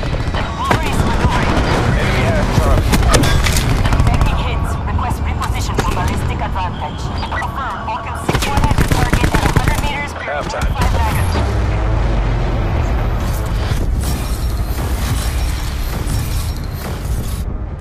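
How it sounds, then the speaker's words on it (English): Dense video-game battle gunfire, bursts of machine-gun and rifle fire with heavy booms, loud and near, running almost continuously with radio-style voices talking over it. "We're taking ground fire."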